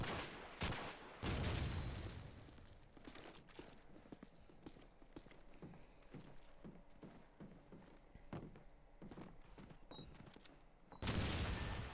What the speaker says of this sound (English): Nade landing in B Street there by the sounds of it